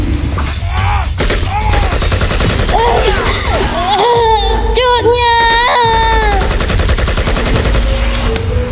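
Gunfire in a dramatized historical battle scene set in a forest, with sharp bursts of shots mixed into loud, dense sound with shouting voices and cries throughout.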